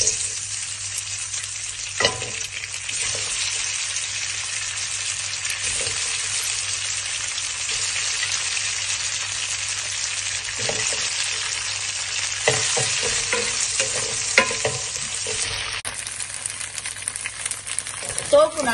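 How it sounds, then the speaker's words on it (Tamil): Tofu sautéing in a hot pan sizzles continuously up close, broken by scraping and stirring knocks from a utensil against the pan. "கொஞ்சமா அப்படியே சாட்டே பண்ணி எடுக்க போறோம் தோஃபுவை"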